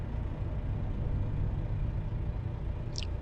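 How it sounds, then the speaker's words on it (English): A heavy truck in American Truck Simulator pulls away from a stop, its engine a steady, low, droning rumble throughout, with a brief faint high chirp near the end. "This truck sounds really good when you take off from the stop,"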